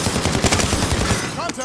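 Rapid automatic gunfire from a Call of Duty: Modern Warfare match, dense bursts of shots rattling close and loud, with faint game chatter mixed in.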